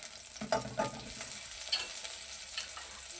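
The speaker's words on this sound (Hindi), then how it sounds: "ये देखें, मैंने चिकन हमारा हल्का सा फ्राई हो गया। जो लहसुन का कच्चापन था वो भी ख़त्म हो गया।" Chicken pieces with garlic fry in a pan with a bright, continuous sizzle, broken by a few soft stirring scrapes and pops near the start, close and fairly quiet.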